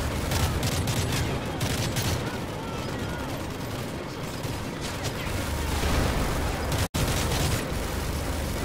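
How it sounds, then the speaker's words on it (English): Dense, sustained gunfire and explosions in the Call of Duty MW3 campaign, a loud continuous barrage of rapid shots with heavy booms, briefly cut by a split-second dropout near the end. "Whoa, I need to shoot over that way."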